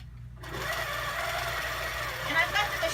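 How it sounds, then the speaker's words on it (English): A longarm quilting machine runs in cruise mode with the needle going steadily, a close, continuous mechanical whir that starts after a brief silence and holds through, under a person talking. "I've got the machine in cruise mode, which just means the needle keeps going"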